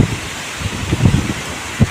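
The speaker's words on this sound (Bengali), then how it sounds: "তোমরা আমার ভয়েস কি শুনতে পাচ্ছ আদেও নাকি শুধু বাতাসের শব্দই শুনতে পাচ্ছ" A strong, steady wind blows across an open rooftop ahead of Cyclone Remal, with gusty buffeting against the microphone and no voices.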